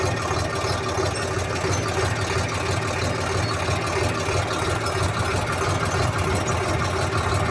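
A tractor engine drones steadily while sowing corn, a constant close mechanical hum with a faint rattling texture and no talking.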